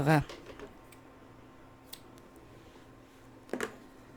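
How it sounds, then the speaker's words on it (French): Scissors snip crochet yarn, the starting tail of a crocheted sole piece, in two short close snips at the start and near the end, separated by quiet handling noise. "Alors ici, on peut venir couper le fil de départ."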